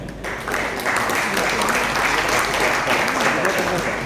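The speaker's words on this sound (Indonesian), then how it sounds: "Plus tepuk tangan untuk kita semua." Crowd applause at the opening of a Jaecoo car dealership in Surabaya, a sustained roomful of clapping that swells after a brief start and carries steadily to the end.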